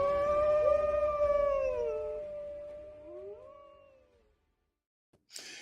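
A wolf howls in long, wavering, tonal cries that rise, bend and fade out over a few seconds, fairly close and alone, followed by silence and a brief noisy burst.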